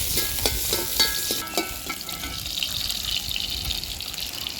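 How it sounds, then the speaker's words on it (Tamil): Onions and garlic sautéing in hot oil in a pan, a steady sizzling hiss with a few sharp stirring clicks and scrapes near the start, close and continuous with no voices. "ஒரு 10 வெங்காயம், ஒரு 10 பூண்டு போட்டு நல்லா வதக்கிக்கலாம்"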